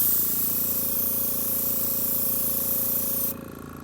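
An airbrush sprays gun coating finish in a loud, steady hiss that cuts off abruptly near the end, leaving only a faint background hum; no one speaks.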